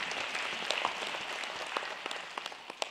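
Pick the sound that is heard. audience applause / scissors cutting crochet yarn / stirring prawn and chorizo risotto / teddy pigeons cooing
audience applause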